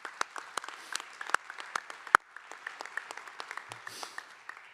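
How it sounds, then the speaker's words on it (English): A commencement crowd applauds the faculty of an art and design college, scattered hand claps that rise into a moderate ovation, heard from a distance and lasting a few seconds. "Please give them a round of applause."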